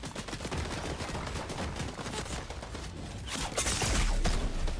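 Dense rapid gunfire from the video game Fortnite, a sniper battle, forming a continuous loud barrage that swells louder near the end.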